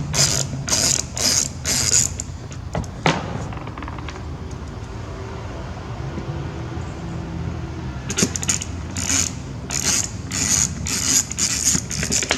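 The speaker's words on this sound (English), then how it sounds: "there's just a couple screws" Screws are backed out of car fog light protectors with a ratcheting tool, quick bursts of clicking at the start and end separated by a quieter stretch with a single knock, all close and fairly quiet.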